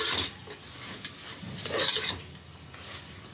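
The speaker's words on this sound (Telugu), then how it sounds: "పసుపు ఉప్పు యాడ్ చేసి ఇది కూడా బాగా కలిసేటట్టు కలుపుకోవాలి." Mutton curry stirred with turmeric and salt, a close rasping scrape of a spoon against the pot over a low sizzle, in uneven strokes with no voices.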